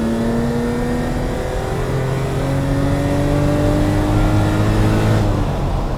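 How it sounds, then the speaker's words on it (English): A V6 Alfa Romeo SZ pulls hard along an open road, its engine note climbing steadily through the revs with a smooth, sustained, loud tone and rising pitch, heard from inside or close to the car without talk. "A glorious V6 Alfa Romeo and an open road."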